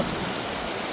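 A small stream runs along the boundary of open farmland, giving a steady, close rushing of flowing water without any break or voices.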